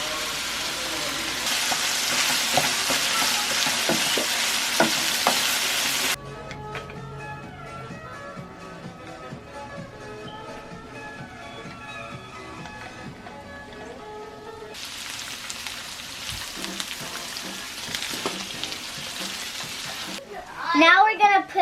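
Frozen filling sizzles and crackles in a hot pan as it is stirred and broken up, with loud frying bursts at the start and again later, separated by a quieter stretch with voices.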